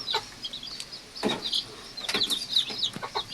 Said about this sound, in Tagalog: Ayan po, mga sisiw po.